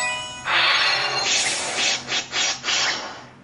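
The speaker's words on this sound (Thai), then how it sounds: "เป็นเอฟเฟกต์เสียงของการต่อสู้นะคะจะเห็นได้ว่าเสียงนี้ดังกว่าทุกๆเครื่องที่ผมเคยทำรีวิวมาเลยนะคะ" Fighting sound effects play loudly through the speakers of a Lenovo Phab tablet turned up nearly to full volume, a harsh, noisy rush of whooshes and scraping hits that pulses a few times before fading.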